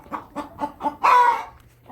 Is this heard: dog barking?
no